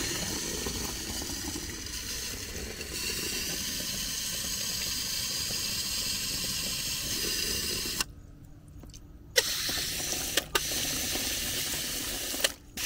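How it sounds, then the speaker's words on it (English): Water sprays from a hose against the side of a plant tub of rice paddy herb cuttings, a steady hissing rush that cuts out briefly and then resumes. "Notice I'm spraying the water against the tub"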